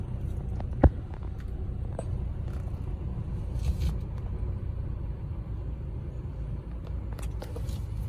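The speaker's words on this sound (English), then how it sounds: "It idles perfect. You see the gauge idles really nice." A 2006 Mazda Miata LE roadster idles steadily, a smooth low engine hum holding even throughout with a brief click near the start and faint background noise.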